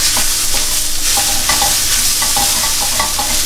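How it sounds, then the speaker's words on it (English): Close, continuous sizzling of vegetables stir-frying in a pan, with repeated scraping and clinking as they are stirred. "Now I just want to keep stir frying, I suppose, making sure that nothing sticks."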